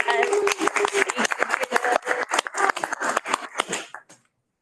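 Meeting participants clap in a brief burst of uneven, sharp claps that thins out and stops after about four seconds, fairly close and moderately loud.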